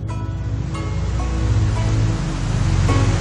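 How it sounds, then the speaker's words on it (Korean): Snowmelt from lingering snow high in the mountains of Yunnan, around 3,300 m, pours down like a small waterfall, a dense continuous rushing roar that stays loud and steady throughout with no voices. "지금도 곳곳에는 눈이 녹아 흐르는데요. 꼭 폭포 같지 않나요?"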